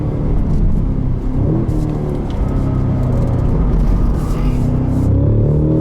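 A 2022 Cadillac CT5-V Blackwing's 668-horsepower engine drones loudly and continuously, revving and pulling steadily through the gears of its 6-speed manual with a deep, rumbling roar from inside the cabin.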